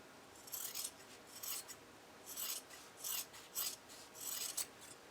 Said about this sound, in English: you'll make a small cut on the underside of the wing